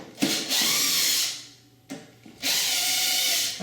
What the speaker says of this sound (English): with the screwdriver just remove all the screws